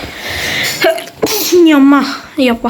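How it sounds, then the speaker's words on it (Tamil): A person with a cold sneezes sharply and loudly once, followed by a quick spoken exclamation and more brief talk. "இந்த தும்மல் வேறு கோல்டு வேறு பிடிச்சிக்கிச்சு."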